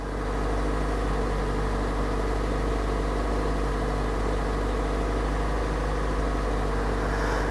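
A Kia car engine undergoing a recall test runs steadily near 1500 RPM, a continuous low idle-like hum with constant tone, close and moderately loud, with no voices.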